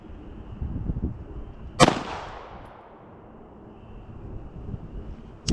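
A single sharp pistol shot from a Staccato CS with a DSC compensated barrel rings out loud and close at an outdoor range, its echo decaying over a second amid wind and background noise.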